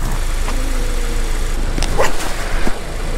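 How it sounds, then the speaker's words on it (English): A dog barking at a tool bag gives a few short barks over steady background noise, with a louder bark near the middle and a couple of fainter yips after. "Are you barking at the tool bag, Nick?"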